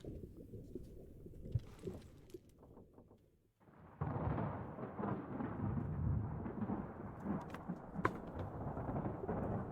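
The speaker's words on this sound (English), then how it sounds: "once you hear the thunder" Thunder from a storm in the video game Return of the Obra Dinn, a deep rolling rumble that fades out, then a louder sustained roll with sharp cracks, heard alone.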